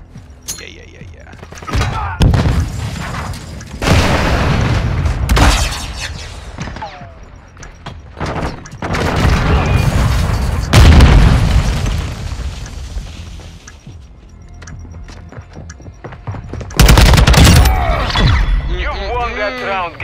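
Heavy booms and bursts of explosions in a video game round after a bomb is planted, loud and close, erupting in several separate blasts with gunfire-like pops between them while players talk over the action.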